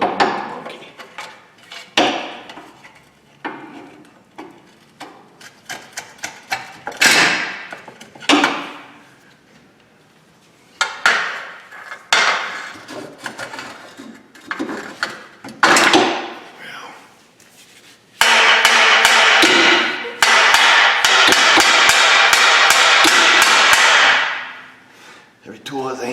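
Irregular sharp knocks and taps from the back of a tool used as a hammer during a Mazda Miata clutch replacement, some in quick bursts, with a louder sustained rough scraping stretch near the end.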